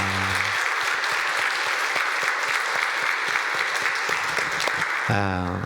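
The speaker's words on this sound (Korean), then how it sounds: "우리 뜨겁게 환영의 박수 해주시기를 바랍니다" A church congregation at a New Year thanksgiving Sunday service applauds to welcome newly registered members, with dense sustained clapping from many people throughout and a voice breaking in at the very end.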